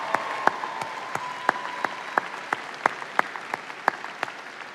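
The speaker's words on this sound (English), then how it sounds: "give yourselves a big, huge round of applause" Graduates at a college commencement ceremony clap in a sparse, scattered way, with sharp individual claps in an uneven rhythm over a quiet hall ambience.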